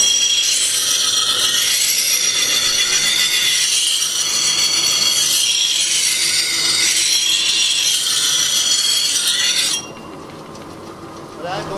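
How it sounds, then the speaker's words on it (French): An axe blade grinds against a wet natural sandstone grindstone turned by water power, producing a loud, continuous rasping scrape that swells and eases rhythmically before dropping away abruptly near the end. "On a mouillé la meule et là on va donc élimer."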